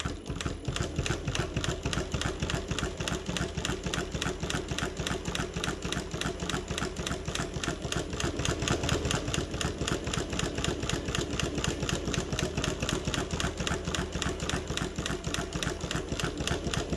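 Mauzer chain stitch embroidery machine sewing with a fast, steady mechanical clatter, a continuous close rhythmic stitching that runs unbroken for the whole stretch.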